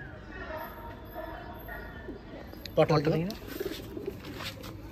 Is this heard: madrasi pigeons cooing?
yes